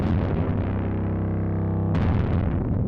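A thick, heavily distorted sound with a washy reverb tail drones on, then a fresh gritty burst hits near the end; the distortion comes from a Decapitator plugin placed after the reverb.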